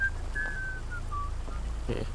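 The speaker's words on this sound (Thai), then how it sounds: "เสียงใครผิวปาก ผิวปากฮะ" Thin whistled notes drift through a horror video game scene, several short sliding tones spread over two seconds against a steady low ambient hum, faint and eerie.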